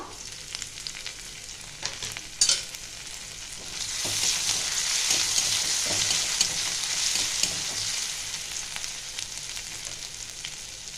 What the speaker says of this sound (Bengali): তেলটা আমার গরম হয়ে গেছে। আমি একটু রসুন দিচ্ছি, 1/2 চামচ, আদা